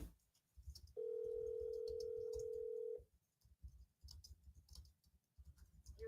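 An outgoing phone call: a single long electronic ringback tone of about two seconds, preceded and followed by faint clicks and handling noise, quiet and close.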